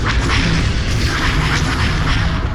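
Dense, continuous barrage of booming laser blasts and explosions from turbolaser fire in the space battle game Star Wars: Empire at War, loud and sustained throughout with no pause.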